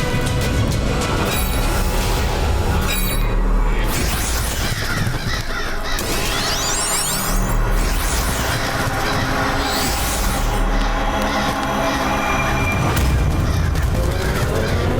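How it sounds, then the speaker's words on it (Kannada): Crows caw repeatedly over a loud, dense background rumble, their harsh calls bursting out in clusters and overlapping with constant noise for the whole stretch. "ಕಾಗೆಗಳು ನಮ್ಮ ಹಿಂದೆ ಬಂದು."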